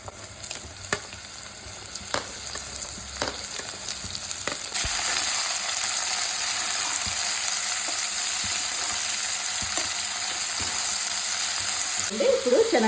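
Ridge gourd pieces tipped into a pan of frying onions and green chillies: scattered clicks and light sizzling, then a sharp jump into a loud, steady hiss of frying that continues, with a spoon stirring near the end.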